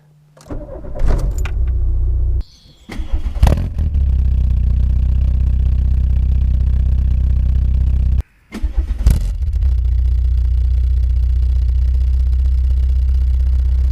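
A Mk2 VW Golf GTI 8v fitted with a Milltek exhaust cranks and starts twice, each start catching and settling into a loud, steady idle, with a brief stop between the two starts.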